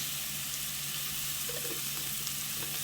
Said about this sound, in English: You're gonna cook these onions until they are translucent, so about 3 to 5 minutes.